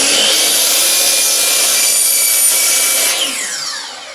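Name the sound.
sawing redwood boards to length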